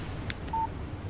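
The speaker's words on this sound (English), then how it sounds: "Text message from Barry." A short electronic phone alert for an incoming text sounds in the video game Alan Wake Remastered, a couple of quick blips followed by a clean single tone, brief and moderately loud.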